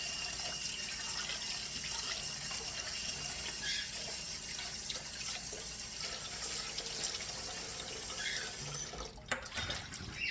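A tap runs steadily into a sink while a bowl is washed out, a continuous close splashing stream with small knocks and clatters near the end.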